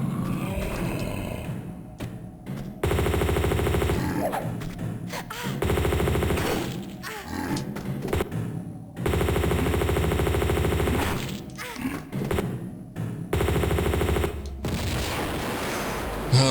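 Rifle gunfire in Tomb Raider Remastered comes as several loud sustained bursts of rapid shots, broken by short pauses and quieter game sounds and alternating between firing and lulls.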